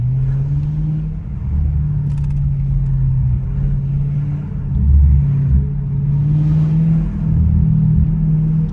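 A straight-piped Audi S7 drives through downtown Toronto, its exhaust holding a steady, loud low rumble with a couple of brief revs and deep popping bursts near the middle and end.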